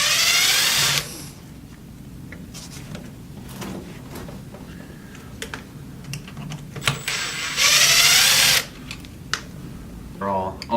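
A power drill backs screws out of the front end of a Traxxas Rustler 4x4 RC car, with two loud whirring bursts near the start and again around the middle, separated by quieter handling clatter and someone talking.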